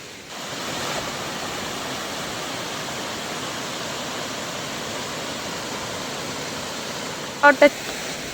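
Steady broadband rush of water flowing under a bridge, loud and continuous throughout, with two brief sharp knocks near the end.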